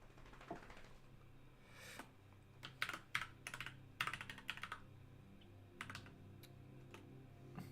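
Someone types a password on a computer keyboard in quiet bursts of light clicking keystrokes with pauses between them, faint and close, with no talk.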